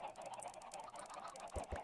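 Minecraft chickens clucking in a crowded farm pen, soft and quiet with a few short thumps near the end.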